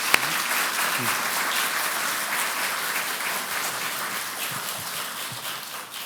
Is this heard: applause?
yes